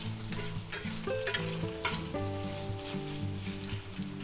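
Pheasant and quail pieces stir-frying in a pan: a steady sizzle with intermittent scraping and clinking of a spatula, close and moderately quiet, no voices.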